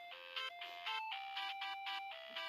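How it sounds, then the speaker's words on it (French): A chiming electronic ringing signal in a death game royale video game: a bright, tonal melody of repeated beeping notes played in quick succession, clear and steady, without any talk. "Soudainement, une sonnerie retentit."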